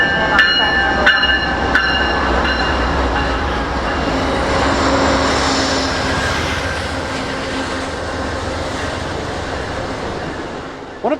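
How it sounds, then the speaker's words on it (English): Amtrak's California Zephyr, train number 2, pulls into a station on track 1 with a broad, steady rumble and rolling clatter, with a few sharp knocks early on, continuous and fairly loud throughout. "the California Zephyr, that is your train that's pulling in on track number 1"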